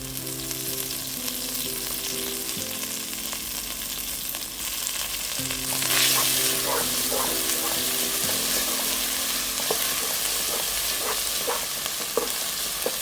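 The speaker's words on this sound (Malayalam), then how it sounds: "മുരിങ്ങയില ഇതുപോലെ ഇട്ട് ഒന്ന് വഴറ്റി" Moringa leaves tossed into a pan of softened onions, a steady close sizzle swelling louder at about six seconds as the leaves land, with scattered spoon scrapes and stirring clicks, no talk.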